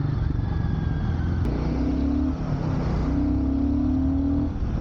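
A motorcycle, a Guerrilla 450 or Himalayan, rides and turns with a steady engine drone and a rising whine, recorded close and fairly loud with no talking.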